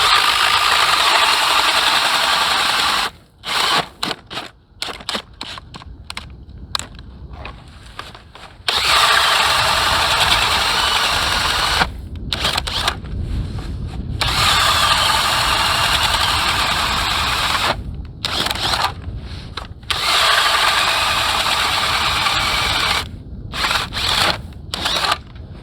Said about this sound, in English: get a power ice auger, you can drill holes all day long